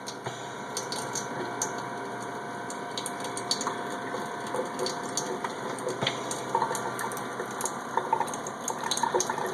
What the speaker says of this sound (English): we'll turn on the water